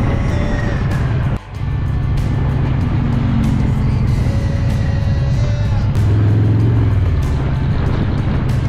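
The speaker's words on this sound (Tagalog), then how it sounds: "Naririnig natin lumalagitik sa makina." A Harley-Davidson motorcycle is ridden on a road trip to Tagaytay, its engine running loud and close with a steady drone, shifting pitch as it changes speed, and faint ticking from the engine mixed in.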